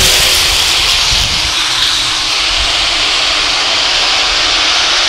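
Street stock race cars roar around Lakeside Speedway during an A-Main on a night of racing, a loud, steady broadband engine drone that swells slightly as the pack passes, with no talk over it.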